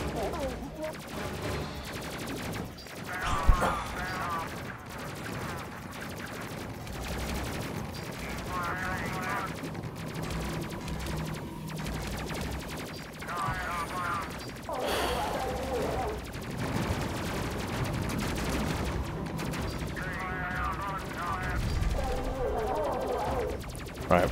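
Weapons fire in the Space Crew video game, dense bursts of shots running through most of the stretch under steady game noise, with voices talking over it.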